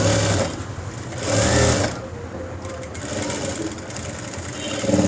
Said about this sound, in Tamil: அதே இடத்துலையே ரெண்டு தையல் போடணும் கொஞ்சம் ஸ்ட்ராங்காக இருக்கிறதுக்காக